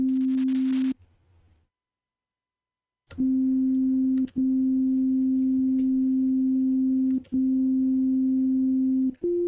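A synthesizer makes strange electronic noises: after a short burst and a silent gap, a loud, low, pure steady tone drones in long stretches, broken by sharp clicks and ending with a brief step up in pitch.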